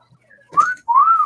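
A person whistles two clear, close tones, a short rising note followed by a longer sustained one, loud and alone after a faint lead-in.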